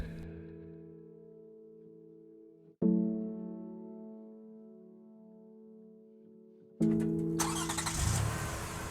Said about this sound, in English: You start the car and drive off toward the river.